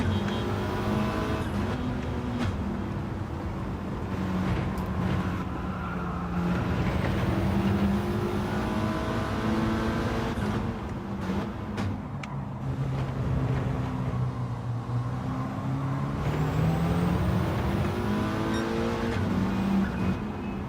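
Group B road cars racing in Gran Turismo 7, their engines droning loudly and continuously with rising and falling pitch as they accelerate and shift, several cars layered together.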